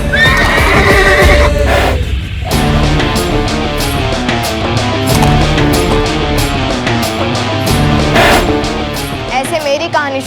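A horse whinnies loudly and close, then hooves clip-clop steadily at a walking pace, with music or ambience underneath and a voice speaking briefly, in a village setting from a historical drama about Peshwa Bajirao.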